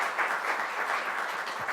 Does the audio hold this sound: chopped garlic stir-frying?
no